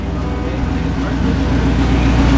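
A loud, rough Nissan 240SX KA24E engine with no exhaust idles steadily with a deep, rumbling low end, running evenly throughout without pauses.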